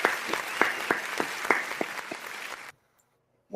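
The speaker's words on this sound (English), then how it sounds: "Let's give a round of applause for all women's sports" Clapping for women's sports during a Kansas City sports talk show, a scattered round of individual claps, fairly close, that stops abruptly and is followed by a brief silence before a voice begins.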